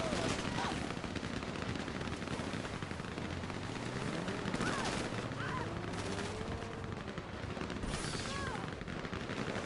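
Dense, continuous gunfire from a GTA Online firefight keeps up steadily throughout, with a busy wash of shots and impacts at fairly constant loudness and no clear pauses.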